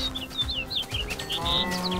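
Cattle mooing inside a video game, several low drawn-out lowing calls over a steady farm ambience with faint chirping birds, fairly close and alone without talk.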